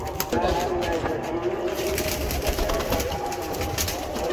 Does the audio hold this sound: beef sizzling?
no